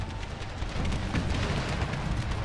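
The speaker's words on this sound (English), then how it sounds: "with some good use of my cannons, we're getting some good canister shots down on the enemy" Cannons fire canister shot across a battlefield in an American Civil War strategy game, giving a dense, rumbling wash of distant booms and crackling bursts that overlap into steady, heavy battle noise.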